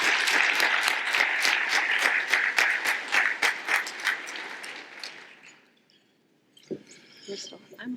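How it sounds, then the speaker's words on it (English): Gala audience of donors and sponsors applauding, loud steady clapping for about five seconds that fades out, followed by a few scattered claps and brief talk. "Please give yourselves a big round of applause."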